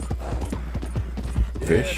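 Quick, steady horse hoofbeats in Red Dead Redemption 2 clip-clop in a brisk rhythm, fairly close, with a short rustling burst near the end and a low hum throughout.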